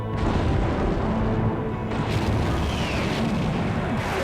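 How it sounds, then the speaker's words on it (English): A torpedo explodes against the starboard bow of the WWII cruiser USS Indianapolis: a loud, sustained broadband roar of blast and rumble that shifts in character partway through, with no voices. "The stillness was shattered by the explosion of the first torpedo, hitting the Indy's starboard bow."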